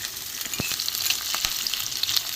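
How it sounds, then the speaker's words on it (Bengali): Chopped onion frying in a pan with a constant close sizzle, broken by a couple of short stirring scrapes. "পেঁয়াজটা একটু ভাজা হোক।"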